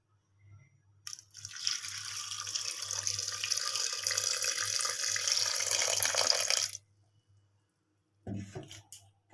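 Tap water runs steadily into a pot of chana dal being readied for boiling in a home kitchen, a continuous broad hiss lasting several seconds before cutting off, followed by a brief clatter.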